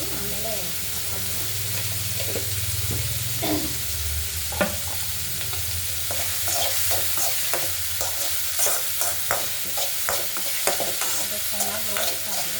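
Salted onions sizzle steadily in a hot pan while a spoon scrapes and stirs them in frequent soft clicks, close by.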